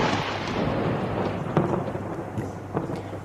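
Heavy rain falls in Bharuch city with thunder rolling through it, a dense hissing downpour with low rumbles and a few sharper cracks, fairly quiet and without voices.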